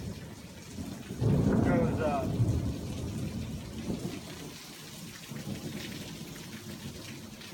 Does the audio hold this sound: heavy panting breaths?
no